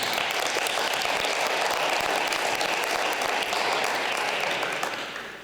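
An audience at an international school literacy celebration in northern Japan giving a speaker a round of applause, loud continuous clapping from many hands that fades at the end.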